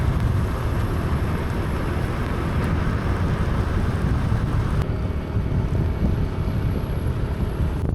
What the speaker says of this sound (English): the rain got heavier